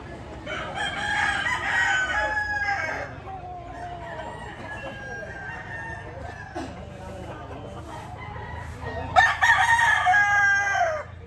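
Several roosters crowing at a rooster market in Lipa, Batangas, with repeated overlapping calls, loudest near the start and again near the end, alongside clucking and someone talking.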